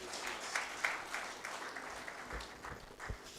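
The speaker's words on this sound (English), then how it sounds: "Please, let's clap for him as he does that." An audience claps at an annual general meeting as the event is declared open, a fairly faint, steady patter of many hands.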